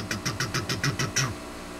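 A post-war Japanese Revere Model 60 Deluxe sewing machine stitches through thick layered canvas with a rapid, even train of about nine mechanical thumps, near and steady, then settles into a low hum.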